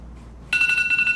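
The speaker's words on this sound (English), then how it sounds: "And that's the alarm." An electronic alarm cuts in abruptly after a brief quiet moment and sounds a steady, pulsing, ringtone-like tone, fairly loud and close, with no talking over it.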